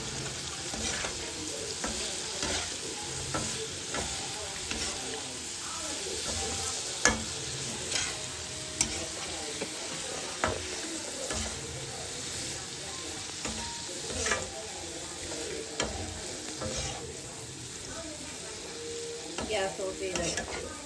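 Pieces of fried fish stirred into a pan of hot oil with asafoetida powder while making fish pickle, giving a steady sizzle with repeated scraping stir strokes and small clicks, close and continuous with no talk.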